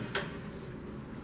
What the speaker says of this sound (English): She will open the door